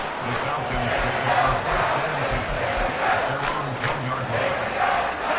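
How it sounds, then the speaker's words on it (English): A stadium crowd in a Madden football video game roars steadily and loudly, a dense continuous wash of cheering with no breaks. "this crowd has certainly liked what they've seen"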